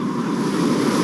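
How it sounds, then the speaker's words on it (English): Ocean surf washes in a steady, dense roar with gusting wind buffeting the microphone, loud and continuous without a break, no voices present. "The ocean."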